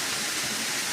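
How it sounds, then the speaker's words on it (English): A year-round waterfall pours into a swimming hole at the base of a cliff, heard up close at water level as a dense, steady rushing roar with no voices. "This is a 365 day a year waterfall."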